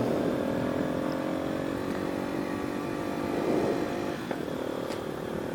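A motorcycle ridden down a small mountain road, its engine droning steadily and close by with slight shifts in pitch and no speech.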